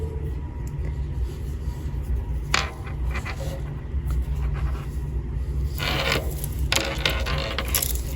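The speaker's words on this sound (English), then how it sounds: "Try to get them beads to quit making so much noise." Small beads on tatting thread clicking and tapping against each other while a coaster is worked, giving scattered light clicks and short rattling bursts over a constant low hum.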